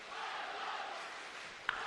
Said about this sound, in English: And we've already seen this crowd really get behind their fighters. Listen to this. They are really cheering him on.